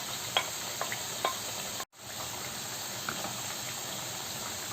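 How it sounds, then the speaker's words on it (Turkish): Ground meat sautéing with peppers and onions in a pan, a steady close sizzle with scattered crackles and light stirring clinks, broken by a brief dropout partway through. "Hemen üzerine biber ve soğanları alıyorum. Biraz da böyle kavuracağım."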